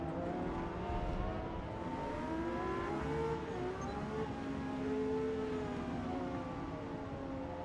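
A Lamborghini Murcielago R engine in a racing video game whines and revs continuously, its pitch rising and falling through gear changes at moderate distance, with no voices over it.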